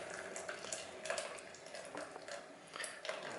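Gearbox oil draining from a manual-transmission Toyota Corolla into a bottle, a soft continuous trickling pour with slight gurgling surges, close by and without talk.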